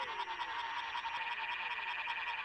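A frog that lives in muddy water and cocoons itself in the dry season croaks in Paraguay, a rapid, steady pulsing call repeated continuously, fairly close and alone.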